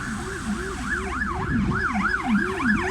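An ambulance siren on Lubelska Street in Chełm wails in a steady, rising and falling pattern. It is loud and close, with faint traffic underneath.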